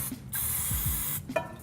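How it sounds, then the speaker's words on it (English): Cooking spray misted over rice-coated chicken: two close, sharp hissing bursts from the can, with a faint click or rattle between and after them. "I coat it a little bit in the cooking spray"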